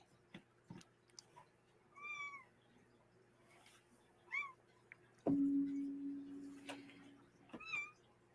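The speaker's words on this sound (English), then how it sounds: "you guys hear Nico meowing?" A cat meowing several times in short plaintive calls, fairly faint against a quiet background, with a loud steady tone partway through.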